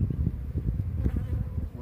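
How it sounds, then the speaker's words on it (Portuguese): Honeybees swarm loudly during a hive transfer in a rural setting with very large combs, a dense, continuous close-up buzz with no talking. "Só pra mim jogar essas abelhas aqui dentro."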